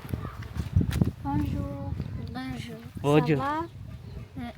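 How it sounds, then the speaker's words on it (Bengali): Chickens cluck and call among the houses of a rural village in Madagascar, several short clucks mixed with a few soft thuds, while people talk nearby. "এমন কোনো বাড়ি নেই যেখানে মুরগি নেই"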